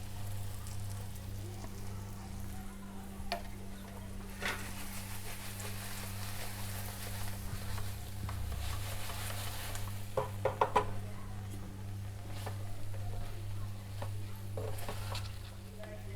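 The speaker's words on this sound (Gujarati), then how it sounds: "હવે મસાલો એડ કરીને મિક્સ કરી લઈશું." Masala being stirred into chillies roasting in a pan for Kathiyawadi stuffed chillies, a soft steady sizzle with faint scraping and a few light clinks, with a low hum behind.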